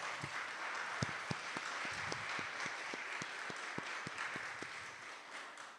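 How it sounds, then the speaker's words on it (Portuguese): A church congregation at a worship service applauds in a soft, continuous wash of clapping, with a few sharper individual claps standing out against the steady background. "Uma salva de palmas."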